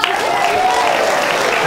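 Audience applause at the Boxers Ondernemers Trofee 2023 award announcement for the Business to Consumer category winners; a short burst of loud, steady crowd clapping with faint voices mixed in.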